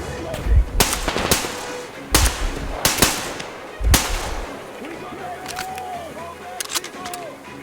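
Gunfire in the Metro Exodus video game: several loud, sharp bursts of shots at irregular intervals, with echoing tails and crackling debris between them, followed by quieter ambient rumble and rustling.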